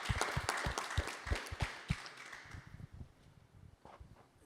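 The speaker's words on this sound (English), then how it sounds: "I think that deserves a round of applause." Audience applause at a voter event after a panel talk, scattered claps that start fairly strong and thin out over a few seconds, with a faint voice near the end.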